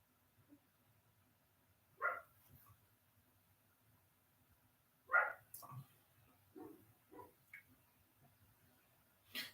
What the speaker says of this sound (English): sorry about the dog in the background there